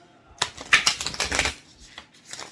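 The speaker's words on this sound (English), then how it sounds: "These cards are shuffling really hard." Tarot cards are shuffled in a quick flurry of close riffling clicks and slaps that trail off into a few softer taps, with no voices.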